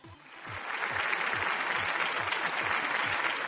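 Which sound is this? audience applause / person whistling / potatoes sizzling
audience applause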